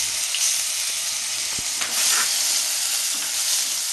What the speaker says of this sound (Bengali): পাঁচফোড়নটা ফুটে গেছে আমি আদা বাটাটা দিয়ে দেব